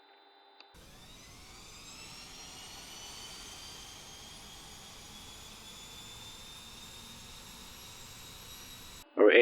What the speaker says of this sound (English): Now let's start our engine.